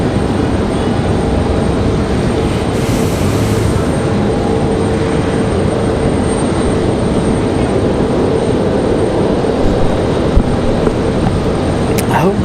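A United jet airliner on the runway at Raleigh-Durham International Airport, a loud, steady engine roar and rumble that holds evenly throughout, with faint talk in the background.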